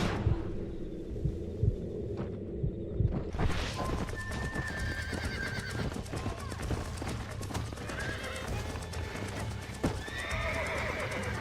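A horse in the Red Dead Redemption video game clops its hooves in a steady rhythm and lets out whinnies against a busy game soundscape, with the sound opening up fuller after a quieter start.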